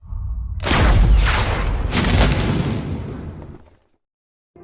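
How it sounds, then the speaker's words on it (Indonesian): A sniper rifle shot in a Chinese action film, two heavy booming blasts in close succession, loud and near, each trailing into a rumbling decay before cutting to silence. "dengan gegabahnya ia nekat melepaskan tembakan ke arah Sandra dan pemberontak tersebut"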